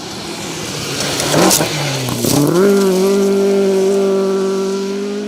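A rally car on a gravel stage during a 2024 rally event, loud and close, with a harsh engine note that rises sharply as it accelerates after braking, a brief tyre scrub mid-pass, then a sustained high rev.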